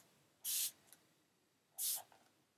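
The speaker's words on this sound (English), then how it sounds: "spray this half of my face." Smashbox Photo Finish Primer Water is sprayed onto a face as setting spray: two short, bright, hissing mist bursts about a second apart, close and clear against quiet.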